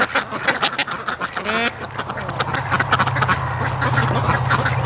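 A flock of breeding ducks quacks loudly and constantly, overlapping calls near and far in a noisy chorus, with a low steady engine hum underneath.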